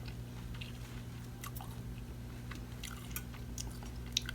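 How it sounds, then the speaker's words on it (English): Someone bites and chews a crunchy taco close to the mic, faint intermittent crunches and soft mouth sounds over a low steady hum. "Delicious. That's a good crunch."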